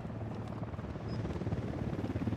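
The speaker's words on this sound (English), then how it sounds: "Hit the dirt, helicopter." A video game helicopter's rotor thumps rhythmically under a wash of engine noise, growing slightly louder and closer as it goes.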